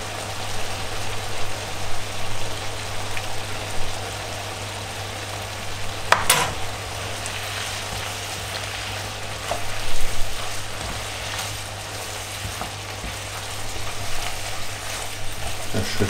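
Tomato paste frying with vegetables and garlic in a pan makes a soft, continuous sizzle with faint stirring scrapes. A brief clatter is heard near the middle.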